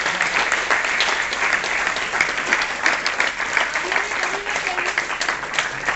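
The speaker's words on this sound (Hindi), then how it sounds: "बहुत जोरदार तालियों से स्वागत करिए" Audience applause at a district-level Ayurveda speech competition prize announcement, steady energetic clapping throughout with a faint voice briefly audible underneath.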